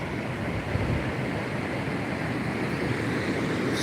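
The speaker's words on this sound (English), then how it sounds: "there's this kind of flow of water here that's trapped behind this little sandbar" Water flowing out behind a small sandbar on Pismo Beach as the tide goes out, a steady broadband wash with wind noise on the microphone, continuous and fairly close, no voices.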